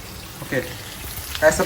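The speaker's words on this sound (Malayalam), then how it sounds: "ഷാലോ ഫ്രൈ ആണ് ചെയ്യാൻ പോകുന്നത്" Food shallow-frying in a pan gives a soft, steady sizzle that swells briefly a couple of times, with people talking over it.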